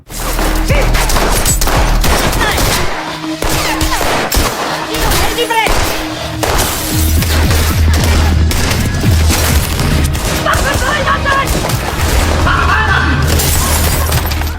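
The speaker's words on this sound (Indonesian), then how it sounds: "polisi datang juga ke lokasi tersebut dan baku tembak pun terjadi dengan sangat alot" A film police shootout against a gambling mafia: dense bursts of rapid gunfire, heavy booms and shattering impacts crowd together loudly throughout, with a voice talking over the action.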